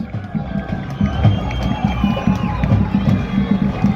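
Football supporters of the winning side cheer and celebrate with their team after a victory over Bregalnica, a dense, steady crowd roar with rhythmic chanting pulses throughout, loud and close.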